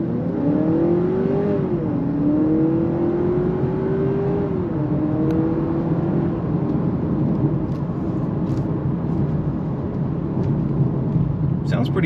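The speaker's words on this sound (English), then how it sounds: "Sounds pretty good. Has a little rev sound to it." A 2023/2024 Honda Accord Hybrid Touring, 204 hp, revs steadily while driving, the engine note rising and gently falling under continuous road and cabin noise for several seconds, then fading into a steady hum.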